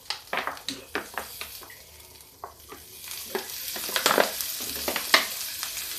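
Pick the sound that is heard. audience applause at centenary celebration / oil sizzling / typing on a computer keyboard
oil sizzling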